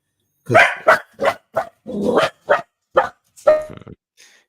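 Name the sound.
dog barking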